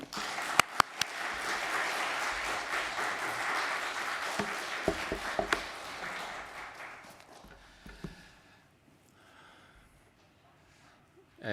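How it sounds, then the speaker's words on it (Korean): Congregation applauding in a church to welcome a visiting guest pastor, a dense sustained wash of clapping for about seven seconds that thins and fades into near quiet. "강사 목사님 하나님께 감사하는 박수로 우리 맞이하도록 하겠습니다"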